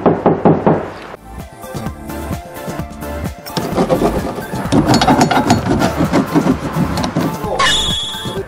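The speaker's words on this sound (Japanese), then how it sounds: "今ドアを叩くとね、こんな音がします。" Close knocks on a car door panel fitted with sound-deadening material open the sequence, followed by a busy stretch of further raps, clatter and mechanical noise, with voices faintly present.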